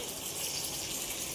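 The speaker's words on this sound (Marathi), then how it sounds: "थोडं पाणी घालूया याच्यामध्ये." Water is poured steadily into curry masala paste for a kupa fish curry, a soft continuous splashing and trickle heard alone and fairly faint.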